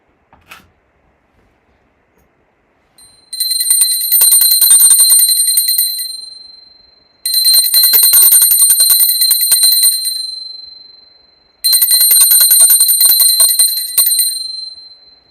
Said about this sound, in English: Now, I ring a bell to offer the element of sound.